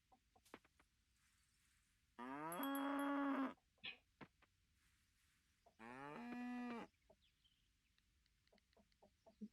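Cows in the farming game Coral Island give two long, loud moos a few seconds apart, with soft clucks and small game clicks scattered around them.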